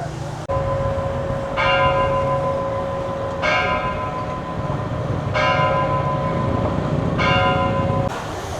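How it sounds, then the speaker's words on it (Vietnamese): Church bell of the large Catholic cathedral in Chanthaburi, Thailand, built by Vietnamese people, tolling in a slow, steady series of about four resonant strikes over a constant low hum, with no talking. "Vừa rồi các bạn có nghe thấy tiếng chuông không? Thì tiếng chuông ở tại nhà thờ nó có mang nhiều ý nghĩa."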